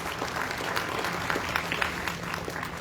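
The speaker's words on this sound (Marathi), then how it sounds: "त्यांच्यासाठी एकदा टाळ्या वाजवा." Audience at a state-level bhajan competition prize distribution in Goa, clapping steadily and continuously at a moderate distance, with no speech over it.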